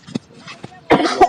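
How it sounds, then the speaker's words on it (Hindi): A short, rough cough bursts out from someone in a public garden after a couple of soft taps and breaths, ending with a smaller follow-up huff. "उसको बहुत खांसी है।"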